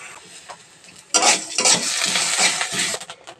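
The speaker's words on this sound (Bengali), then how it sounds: "এই যে আমার চাল ভাজাটা কত সুন্দর শব্দ হচ্ছে আর ফোটা শুরু করছে" Rice dry-roasting in a blackened wok, a soft hiss that jumps to a loud, steady crackle of popping, stirred grains after the first second, with scraping bursts throughout.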